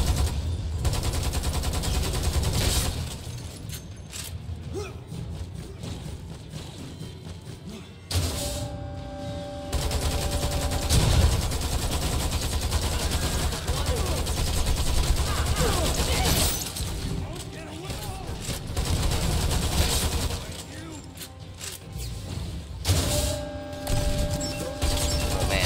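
Gunfire in Lost Planet 2 comes as repeated bursts and volleys of shots with mechanical clatter and shattering hits, running through a busy battle mix while someone talks at times.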